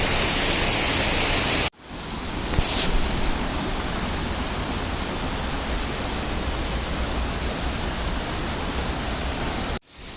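Steady, loud roar of the Chikle waterfall in the Western Ghats near Belagavi, Karnataka, fills the whole stretch, broad and continuous, with brief cuts near the start and end.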